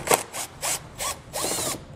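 Power drill driving a T30 Torx socket to remove a Torx head bolt while fitting a Roadmaster base plate kit to a 2017 Smart car, heard as five short close whirring bursts with brief pauses between them.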